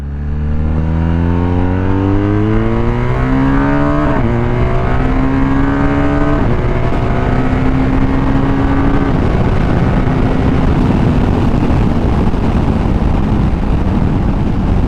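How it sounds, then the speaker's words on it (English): A motorcycle engine climbs loudly through several gears as it accelerates along the road, each rising pitch sweep cut short by a shift before settling into a steady, wind-buffeted high-speed drone. "I was just accelerating with this bike and it felt like I was flying on the road"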